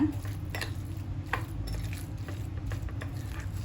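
A spoon stirs and presses minced pork mixture in a bowl, giving soft repeated scraping and light clinking taps against the dish, close and fairly quiet with no talk.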